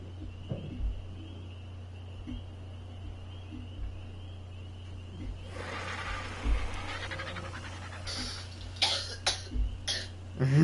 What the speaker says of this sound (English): just me coughing my guts up